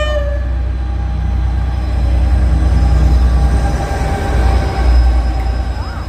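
A train passes through Doncaster station, a loud, close, continuous rumble of wheels and engine with faint high tonal whines above it, swelling slightly partway through.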